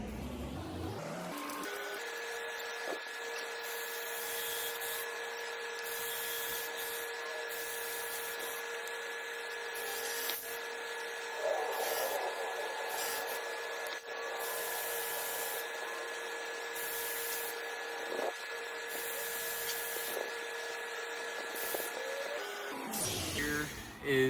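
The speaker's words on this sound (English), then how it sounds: "I'm gonna drill the holes up top with my drill." A power drill bores holes overhead for the hooks of a porch house swing, running steadily with tonal whine and short pauses between bursts, close and fairly loud for most of the stretch.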